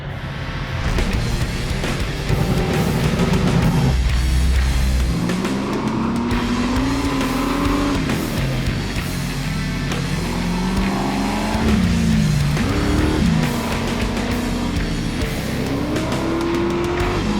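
A 550 hp mid-engine V8 Corvair roars around an autocross course, loud engine revving and shifting pitch through gears, with tire squeal as it corners hard.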